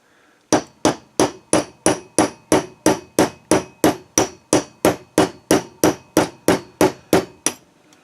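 A hammer drives a gun pin out with a 1/8 inch brass punch on a bench block, about twenty evenly spaced, sharp metallic taps close up, each ringing briefly before the next.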